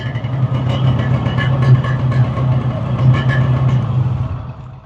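A 1997 Yamaha RXZ motorcycle engine idles close by with a steady, throbbing two-stroke burble and small uneven pulses, loud and continuous without talk.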